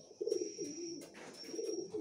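A young pigeon chick around two weeks old gives soft, low cooing calls, close by, with a faint high whistle-like tone running through in the background.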